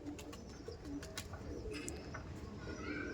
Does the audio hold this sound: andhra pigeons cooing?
yes